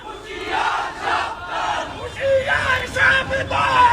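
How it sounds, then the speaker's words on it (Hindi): A large crowd of radicals shouts and chants threats together in a street in Dhaka, Bangladesh. Their yelling comes in loud, surging waves with separate raised voices cutting through the mass of sound. "कट्टरपंथियों की भीड़ ने कैसे सड़कों पर निकलकर हिंदुओं को मारने काटने की धमकियां दी"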